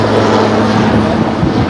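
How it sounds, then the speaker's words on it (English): A Super Puma helicopter making a flyover above the USS Iowa during Los Angeles Fleet Week, heard as a loud, steady, close rotor and engine roar that fills the whole stretch, with no one talking over it. "That right there is a Super Puma helicopter doing a flyover of the USS Iowa and Fleet Week."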